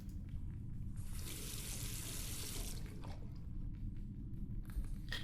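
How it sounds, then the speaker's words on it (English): Running water rinses a photographic plate in The Last Door, a short steady gush that swells for a couple of seconds over a low background hum and then fades back. "All that remains is to rinse the plate."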